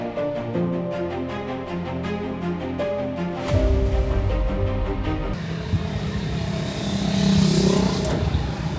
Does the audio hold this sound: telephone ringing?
no